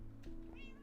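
A cat meows once, a short, faint call over steady background hum, with no talking.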